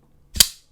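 A Rike Knives District 9 pocketknife with an S90V blade snaps open in a single sharp, loud clack, close by and otherwise silent.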